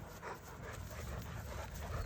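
A 120-pound, nine-month-old Cane Corso pants steadily and faintly nearby, with rapid rhythmic breaths and no talking over it.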